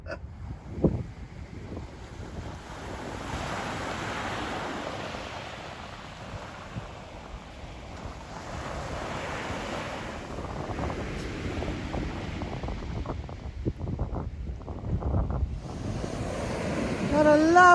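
Sea waves wash steadily onto a Bulgarian coast shore under gusty wind buffeting the microphone, with surges of surf rising and falling throughout and a brief faint sound near the end.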